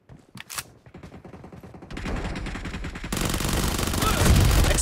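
Automatic gunfire in the BGMI mobile battle game, rapid bursts that build from scattered shots into a loud, continuous fusillade over the last seconds, with no talk.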